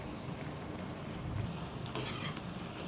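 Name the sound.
bitter gourd (karela) frying in oil on medium flame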